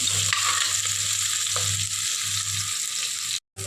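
Onions and green chillies fry in a pan and are stirred, making a dense continuous sizzle with scraping strokes up close, then a brief cut to silence near the end.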